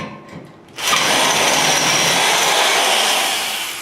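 A handheld power drill spins up abruptly after a short pause and runs loud and steady for a few seconds, its bit slipping in a loose chuck, with a broad rattling whir that eases slightly near the end.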